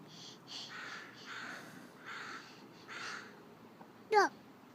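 A crow caws several times in a rhythmic series of harsh calls at moderate distance, followed by a sharp, louder squeak near the end over quiet background.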